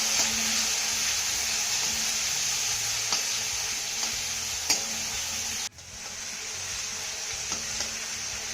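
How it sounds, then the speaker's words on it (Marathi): Chopped tomato sizzles and fries steadily in a hot pan, a continuous close hiss with a few faint clinks of a spoon stirring and a brief dip in the sizzle partway through. "आता हा टोमॅटो ना आपल्याला चांगला मौसूद होईपर्यंत परतून घ्यायचा आहे"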